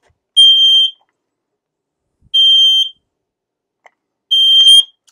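A shrill, piercing electronic tamper alarm from a PowerG security sensor beeps three times in slow, evenly spaced bursts, loud and close, with silence between them.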